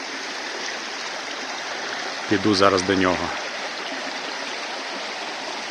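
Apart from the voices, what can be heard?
cold mountain stream water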